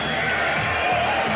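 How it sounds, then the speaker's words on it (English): A dense, steady roar of arena crowd noise rises as boxer Lennox Lewis makes his entrance, with cheering blended in and a commentator talking over it. "The applause tells you that the man is ready."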